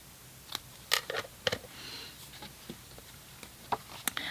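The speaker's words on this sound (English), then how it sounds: "I'm just going to snip the corners off those, just miter them very slightly" Scissors snip the corners off card stock for a fun fold flip flap card, a few short crisp cuts spaced irregularly, close and fairly quiet with no talking.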